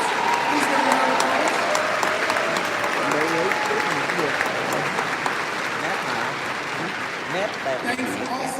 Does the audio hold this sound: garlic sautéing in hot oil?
no